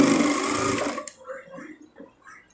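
A domestic sewing machine stitches thread piping onto a blouse neckline, its dense mechanical whir running loud for about a second before cutting off, leaving quieter handling sounds afterward.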